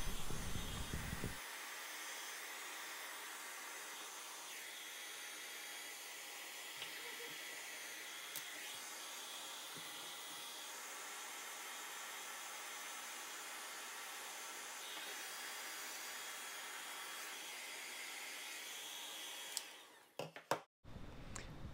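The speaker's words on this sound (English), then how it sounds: "grab your heat gun and go ahead and apply it to the splice to shrink it" A heat gun blows on heat-shrink tubing over a wire splice, a continuous airy hiss and whir that holds steady for about twenty seconds before cutting off, followed by a few brief handling knocks.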